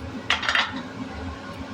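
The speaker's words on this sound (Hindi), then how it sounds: "मैं विम लिक्विड से बर्तन धोती हूँ।" Dishes being washed by hand with Vim liquid: a few close clinks and knocks of utensils around the half-second mark, then soft steady handling noise at the sink.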